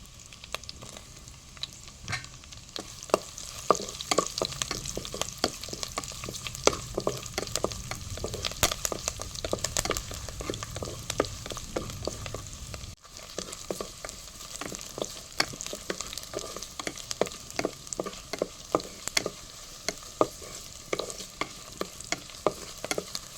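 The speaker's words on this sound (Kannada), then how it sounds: "ಬೆಳ್ಳುಳ್ಳಿ ಹಾಗೂ ಕರಿಬೇವು ಸ್ವಲ್ಪ ಚೆನ್ನಾಗಿ ಫ್ರೈ ಆದರೆ ಒಳ್ಳೆ ಘಮ ಬರ್ತದೆ." Crushed garlic and curry leaves fry in hot oil in a pan for chicken sukka. A busy crackling sizzle pops in rapid bursts, close and steady throughout, with a brief break midway and no voices.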